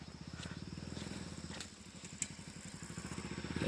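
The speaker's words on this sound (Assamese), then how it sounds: "এখন বাইক আহি গ'ল।" A motorbike passes along a hillside road in Nagaland, its engine a steady, rapid putt-putt of pulses, fairly faint at first and swelling louder toward the end, with no talk.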